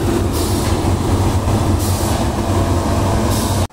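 The motor driving a wave pool's wave machine at a water park in Araranguá, Santa Catarina, gives off a loud, steady mechanical roar. The rumble stays constant and unbroken, then cuts off abruptly at the end.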